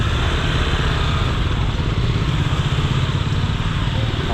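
Motorcycles in busy traffic on a street at Dampalit Boulevard, a dense close engine drone and revving with a steady rumble throughout, a voice briefly underneath.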